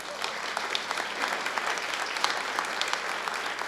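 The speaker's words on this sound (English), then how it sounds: "Let's give her a round of applause." Steady audience applause at a congressional town hall in Allentown, Pennsylvania, a broad even wash of many hands clapping from a crowd, continuous throughout with no talking.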